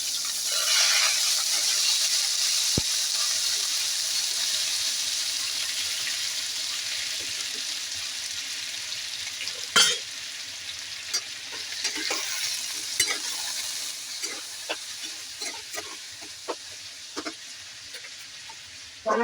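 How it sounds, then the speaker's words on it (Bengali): Vegetables with jackfruit seeds fry in a pan, a steady close sizzle at first, then quieter frying broken by sharp clacks and scrapes of stirring. "এবার আমি দিয়ে দিচ্ছি দেখো আনাজগুলো"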